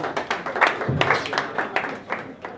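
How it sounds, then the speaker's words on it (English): An audience at a crypto conference claps for a woman in red: a brief burst of scattered, close hand claps, fairly loud, with some voices mixed in. "Please clap for the lady in red."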